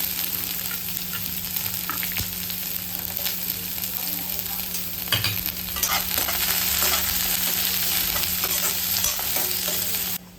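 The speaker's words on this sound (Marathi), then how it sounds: "जिरं टाकलं आहे लसूण झालं पॅन चांगला तापलेला आहे" Cumin seeds and garlic sizzle steadily in oil in a well-heated pan, a close, continuous frying hiss with small crackles and a brief stir midway, no talking over it.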